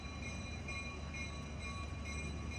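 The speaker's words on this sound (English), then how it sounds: "Now we see our train arriving at the station right on time." A PeruRail Vistadome luxury train pulls into a station in the Andes, a steady low rumble of rolling wheels and carriages with faint high tonal whines, heard alone and fairly close.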